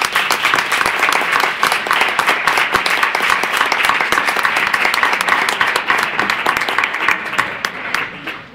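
An audience at a conference on community associations gives a long, hearty round of applause, dense, even clapping that holds strong for several seconds before thinning slightly at the end.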